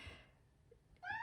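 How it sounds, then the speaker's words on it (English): A pet cat gives a single short meow near the end, close and clear after a moment of near silence. "That's my cat, likes to get into everything."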